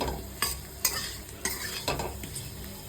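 Cauliflower fries in oil as a spoon stirs it through a steady sizzle, making four or five sharp scraping strokes close by.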